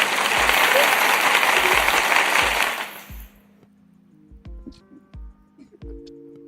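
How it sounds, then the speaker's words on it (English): Applause for a show greenlit for a second season, heard on a livestreamed radio podcast: a loud burst of clapping for about three seconds that cuts off abruptly, followed by sparse clicks and quiet tonal noises. "we're gonna give them a warm round of applause"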